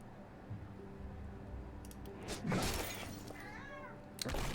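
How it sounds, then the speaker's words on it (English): Soft rustling and shuffling close by, with a brief sharp crinkle midway and a short chirpy cat-like sound near the end, over low room noise. "So my cat's rustling."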